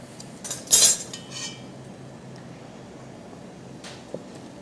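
Metal spoons are picked up in a kitchen, giving one bright clinking rattle up close, followed by faint handling noise and a small tap later.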